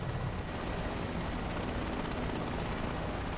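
Helicopters in Microsoft Flight Simulator produce a loud, constant rotor and engine drone with a dense whirring wash that fills the scene without pause, close by and with no talking over it.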